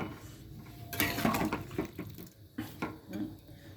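A lid set over a cooking pot of pumpkin and potato curry in a home kitchen, with loud clattering metal knocks around the start, then a few lighter clinks and rattles.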